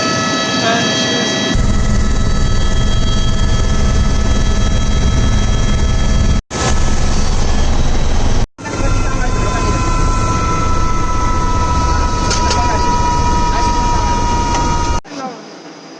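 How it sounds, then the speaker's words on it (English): Helicopter rotor and engine noise during an approach and landing on a hospital helipad, a loud continuous drone with steady tonal whine that drops out briefly twice before resuming. "helicopter is approaching to the helipad."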